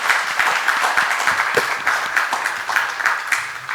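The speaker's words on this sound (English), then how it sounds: "Can we have a huge round of applause for this panel here?" A panel at an environmental news event is applauded by the audience, a loud, dense burst of many hands clapping that carries on steadily and begins to thin slightly toward the end.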